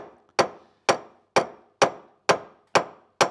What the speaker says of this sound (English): Now to loosen these, I need to take a big screwdriver and a hammer.